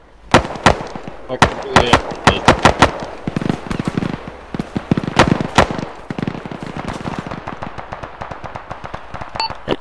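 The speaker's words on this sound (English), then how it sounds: "Shots fired, shots fired." Rapid bursts of gunfire at a road checkpoint during a military exercise, many loud sharp cracks in irregular clusters over vehicle rumble, with brief radio-style talk.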